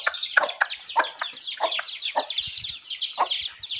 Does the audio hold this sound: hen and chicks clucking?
yes